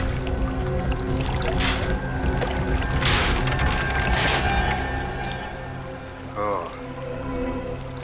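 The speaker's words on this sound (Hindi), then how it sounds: "पानी की आवाज?" Water gushes and splashes out of a broken underground water tank being dug open, a loud continuous pouring rush with no voices.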